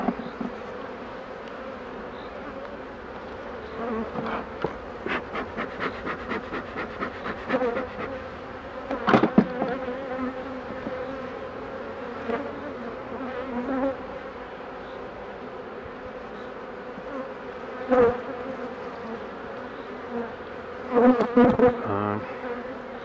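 Dense, steady buzzing of many honeybees around a hive during an inspection, with individual bees droning louder as they pass close by.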